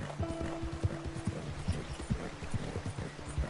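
Rapid clip-clopping horse hooves in Red Dead Redemption 2, a steady rhythmic trot of fairly close hoofbeats over a faint background, with no talk.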